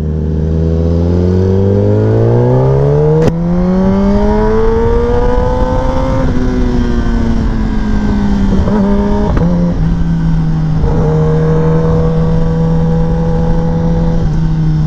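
A Kawasaki Ninja ZX10R sport motorcycle engine drones steadily while being ridden, its pitch rising and falling through gear changes, loud and close with wind rush and no talking.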